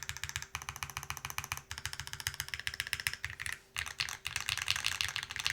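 Rapid typing on a Pangea Mini mechanical keyboard prototype fitted with alpha keycaps, crisp close keystrokes in quick bursts with brief pauses, clean and fairly quiet.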